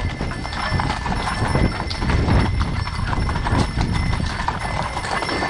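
Horse-drawn carriage at a traditional Bukovinian wedding in Ukraine, hooves clip-clopping steadily and loudly alongside rattling wheels and outdoor bustle, with no pauses.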